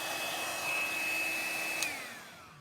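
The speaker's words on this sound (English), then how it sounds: "I have to use my very noisy little hairdryer." A small hair dryer whirs steadily with a high whine, then its pitch drops as it winds down near the end.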